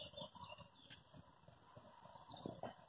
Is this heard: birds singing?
yes